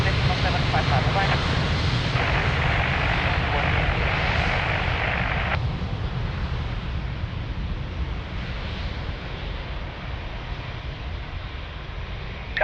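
Jet aircraft taking off from runway 02 at Lisbon Airport: a steady, loud, broad engine roar with a low rumble that continues throughout, slightly easing in the second half.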